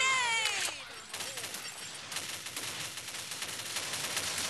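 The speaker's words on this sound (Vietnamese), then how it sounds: "Súng máy đúng không?" Machine gun fire in the video game Dead Knight: quiet, rapid bursts of repeated gunshots, starting with a brief whistling sound effect and continuing in a steady rattling volley.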